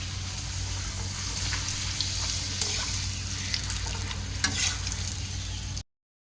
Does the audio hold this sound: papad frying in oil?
yes